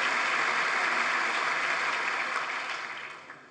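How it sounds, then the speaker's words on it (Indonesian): Sustained applause from a large audience greeting Netanyahu's speech, a dense steady clatter of clapping that fades gradually toward the end, with no voices over it. "Tepuk tangan berulang-ulang membahana menyambut pidato"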